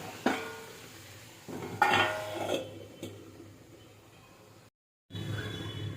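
Chutney being stirred in a pan after salt goes in: a few quiet scraping and clinking strokes of a utensil against the pan, with a soft sizzle underneath, then a brief silence before the sizzle returns.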